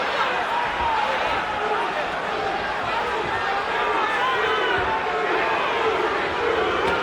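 A boxing arena crowd roars in a continuous, dense wash of many voices during a heavyweight bout, loud and unbroken for several seconds.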